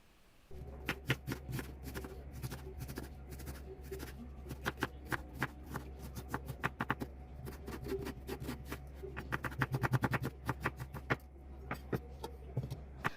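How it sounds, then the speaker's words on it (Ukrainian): A knife on a cutting board chopping an onion into small cubes, heard as a long run of close, quick, sharp taps. The rhythm is steady at first and grows denser and faster near the end, with a steady low hum underneath. "Та добряче нашинковуємо її невеликим кубиком."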